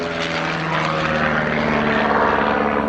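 A de Havilland Chipmunk propeller plane flies at the Yeovilton Air Day airshow, its engine and airscrew giving a loud, steady, close droning roar throughout.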